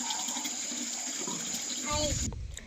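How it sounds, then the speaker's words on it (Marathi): Water gushes steadily from a tap into a container close by, then cuts off near the end with a faint clunk. "आता प्यायचं पाणी भरते"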